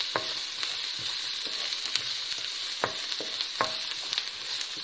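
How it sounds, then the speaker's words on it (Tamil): Onions and turmeric powder sauté in a pan for masala chicken kuzhambu, a constant bright sizzle with scattered light scrapes and taps of a stirring spoon, close and even throughout. "மஞ்சள் பொடி வதக்கி விட்டாச்சு."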